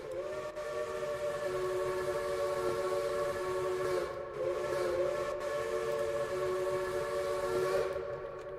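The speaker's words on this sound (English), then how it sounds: "So that's where they place the whistle?" Steam train whistle in a Roblox game, a loud sustained multi-tone blast that holds steady for several seconds with slight dips, continuous and close, with no talk over it.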